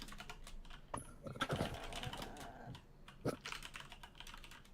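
Loud, fast typing on a computer keyboard, close up, with bursts of clattering keystrokes and brief pauses between them.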